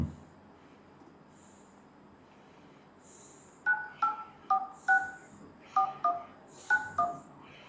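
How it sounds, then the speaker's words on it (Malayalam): A telephone number is keyed in as a series of about nine crisp DTMF beeps, each brief and evenly spaced, close and clear over a quiet background. "ഫോർ സോങ്സ് നമ്പർ ചുമ്മാ ഒന്ന് വിളിച്ചു നോക്കാം"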